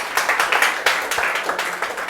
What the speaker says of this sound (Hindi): बच्चे के लिए जोरदार तालियां बजाएंगे।